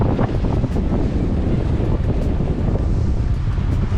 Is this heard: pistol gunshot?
no